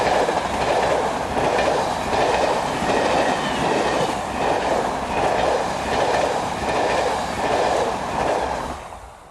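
Locomotive 22400 hauling Italian passenger coaches rolls past with a steady rushing roar and rhythmic clickety-clack of wheels over rail joints, fading slightly at the end.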